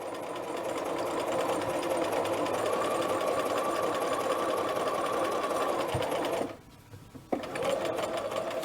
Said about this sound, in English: So let's start stitching, and we're just going to work our way around.